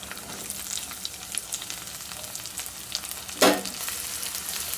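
Onions with curry leaves and green chillies sizzle in a pan, a soft continuous crackle with scattered pops and one sharper scrape of stirring midway; close but fairly quiet, with no voices.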